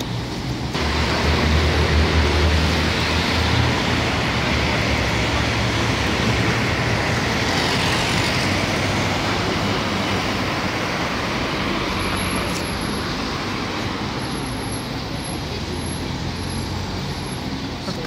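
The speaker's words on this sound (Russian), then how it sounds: "Автобусная остановка." Steady street traffic washes past a bus stop in Varna, Bulgaria, a broad continuous roar of passing cars and buses heard at close range, with faint chirps high above near the end.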